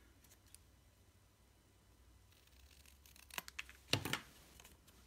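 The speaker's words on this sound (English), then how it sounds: "follow that little line with my scissors" Scissors snip through a paper gift tag, following a guide line; a few soft, quiet cuts build to a brief burst of closer crunching snips near the end, with no talking.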